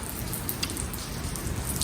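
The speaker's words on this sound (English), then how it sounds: "It's raining quite heavily, so it looks like I'm going to be here for a while." Heavy rain pattering steadily on a beach, a dense continuous hiss of drops close by with no voices and no pauses.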